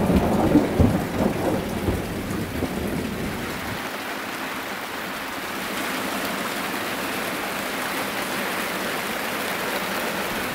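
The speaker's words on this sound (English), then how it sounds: "Thunder." Rain pours steadily on an open Swedish landscape during a thunderstorm, with a loud, close rumble of thunder in the first seconds that fades into a continuous hiss of rainfall.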